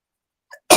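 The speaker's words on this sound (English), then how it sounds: "I wasn't doing so much coughing or nothing until I started recording" A single short, loud cough from a man, preceded by a faint throat sound.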